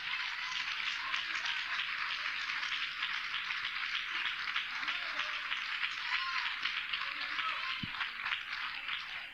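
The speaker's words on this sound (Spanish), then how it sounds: "Denle un aplauso a Cristo que Él está aquí en esta noche" A church congregation applauds together at a nighttime service, a steady dense wash of clapping that holds at an even level without a break for the whole stretch.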